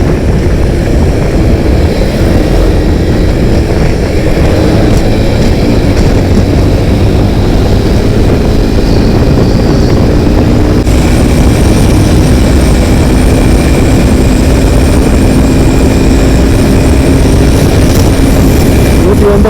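A steady, loud engine roar runs through the whole stretch without a break, like a vehicle moving at speed, with a faint voice in the background.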